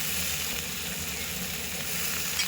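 Brinjal sizzling in hot oil in a pan for sambar, a steady, close frying hiss that runs without a break.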